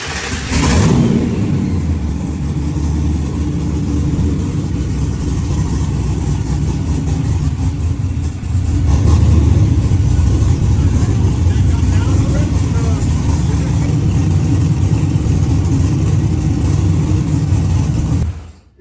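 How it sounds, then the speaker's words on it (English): A sand car engine cranks, fires and settles into a loud, rough idle that rumbles on close by, with a brief surge partway through; people talk over it. "So we're gonna start it. See what idle's at."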